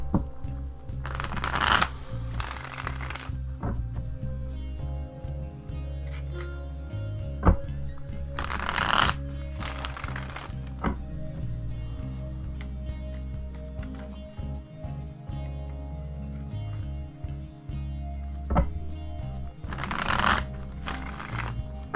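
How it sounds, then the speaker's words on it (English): Tarot cards are shuffled repeatedly up close, with riffling bursts and soft slapping and sliding between them over a faint background. "You actually have to shuffle this in a weird way."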